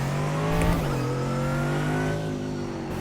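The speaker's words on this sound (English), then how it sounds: "Man, these cars sound so good." A Mercedes AMG GT3 race car in iRacing at the Nürburgring drones close and loud, its engine note holding steady, dipping briefly in pitch, then settling again, with no voices.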